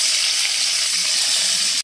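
Potatoes frying in hot mustard oil in a pan, a loud, close, bright sizzle that roars steadily and without a break until it cuts off abruptly at the end.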